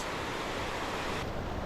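Roaring water from Shop Creek in historic flood along the Buffalo River Trail in Arkansas, a steady broadband rush filling the clip without a break, loud and close with no voices.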